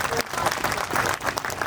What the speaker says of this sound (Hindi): वेलकम करेंगे एक तालियां बजा के